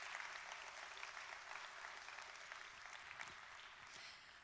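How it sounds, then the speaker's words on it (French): Sustained applause from a conference audience at an opening plenary session, dense steady clapping filling the room throughout with no speech over it. "on pourrait commencer par un applaudissement collectif pour cette mobilisation"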